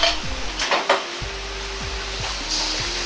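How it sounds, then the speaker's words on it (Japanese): Miso being lightly stir-fried in oil over low heat for a meat miso topping, giving a steady soft sizzle with a few spatula scrapes and stirring taps against the pan, no voices. "あとは油に味噌をなじませるように軽く炒めます。"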